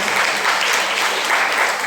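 An indoor audience at a product presentation gives a short, dense round of clapping, close and steady throughout.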